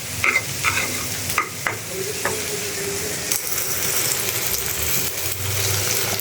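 Slices of spiny gourd (kakrol) fry in a pan with a steady close sizzle, punctuated by several scraping stirs and light clinks early on, with no talking.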